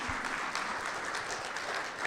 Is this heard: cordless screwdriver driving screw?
no